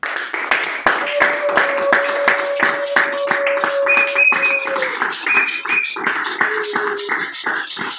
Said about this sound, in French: Acclame toi-même pour cette parole de ce matin.